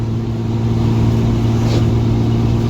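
A Ram 2500 pickup's engine pulls steadily under throttle while towing a trailer, a loud, continuous low drone of engine and road noise with no one speaking.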